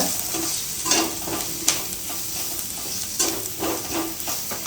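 Steady oily sizzling and hissing of food sautéing in a pan while making chilli idli, with occasional stirring scrapes rising briefly above the continuous frying noise.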